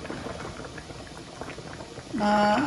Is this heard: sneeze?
no